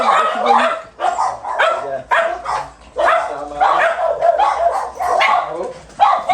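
Several dogs barking and yipping at a dog boarding space in Lambaréné, Gabon, in close, loud, overlapping bursts that continue throughout.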